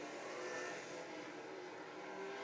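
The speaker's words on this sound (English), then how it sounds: "he's trying to make his way around the number 7 machine of Andy Smith" Race cars roar around a racetrack during a live race, a steady, distant, blended engine drone at low level with no clear pass-by or voices.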